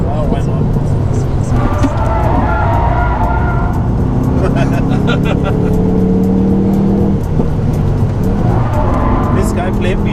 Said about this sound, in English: The Hyundai taxi is drifting.